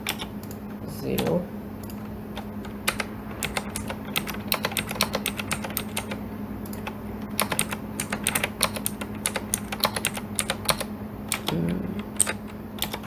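Keys on a computer keyboard tapping in irregular bursts throughout, close and fairly crisp, with a steady low hum underneath and a couple of brief voice sounds.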